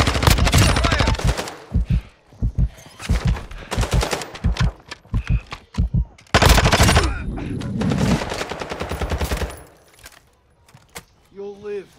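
Bursts of automatic gunfire and rapid shots from the Call of Duty DMZ video game fill the scene, loud and repeated, with players talking over the firefight.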